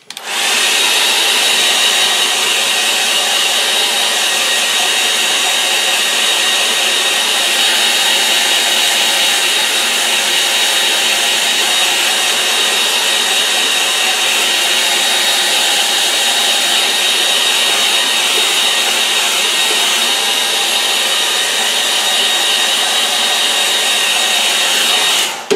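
A hair dryer runs steadily and loudly for the whole stretch, drying acrylic paint on paper, a constant airy blowing roar with no pauses or talk.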